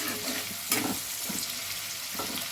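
Onion fries in very hot oil while being stirred, a soft continuous sizzle with a few scraping stirs of the pan, fairly quiet and close.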